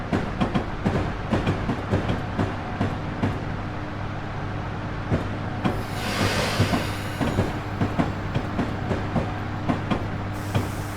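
A 1968 GG1 electric locomotive, running in Train Simulator Classic on the Morning Congressional from Baltimore to Washington, rolls slowly over ladder tracks with repeated clickety-clack wheel beats over a steady rumbling hum and a brief rushing swell midway.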